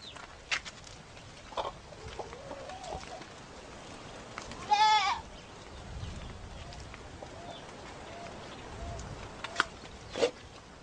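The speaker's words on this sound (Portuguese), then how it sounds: "Que é que esse bodinho tá berrando?" A young male goat gives a single loud wavering bleat among farm goats, standing out midway against a quiet outdoor background with a few faint animal calls and distant sounds.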